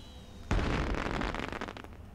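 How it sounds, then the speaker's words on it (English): In the video game Astroneer, orange fireworks go off as a single sudden loud burst followed by about a second and a half of crackling, rumbling decay. "Maybe it's, just the orange fireworks, and we just set them all off."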